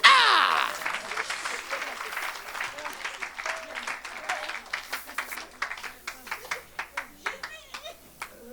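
A church congregation claps and cheers for Jesus during a Sunday service, a burst of applause settling into steady rhythmic hand claps over a loud preacher's voice and crowd noise.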